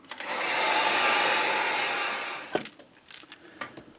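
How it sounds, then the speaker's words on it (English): A heat gun blows a steady whooshing roar while drying a freshly painted fishing lure. It shuts off after about two seconds, followed by a few light clicks and taps. "Now, heat gun, dry it again really good"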